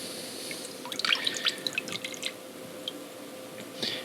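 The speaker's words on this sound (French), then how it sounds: "Vous rincez d'abord à l'eau tiède, peu de pression, et après vous augmentez la pression pour enlever" A hydrodipped part is rinsed with lukewarm water at low pressure to wash off film residue, giving close, irregular splashes and drips that cluster in the first half and then thin out to scattered drops.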